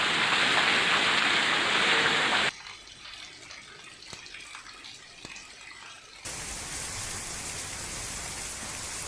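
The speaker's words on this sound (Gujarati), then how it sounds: "વરસાદનું આગમન થયું છે સિદ્ધપુરમાં" Steady rain falls on the streets of Siddhpur, Gujarat, a dense continuous hiss that drops to a quieter patter with scattered drips midway, then swells back to a heavy wash; no voices.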